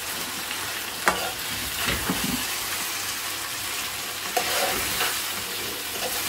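Chicken karahi being stirred in a hot pan: a continuous sizzle with scraping and clattering stirring strokes, louder bursts near the start and later on.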